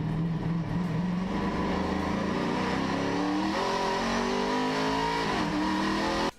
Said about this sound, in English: A NASCAR Cup car.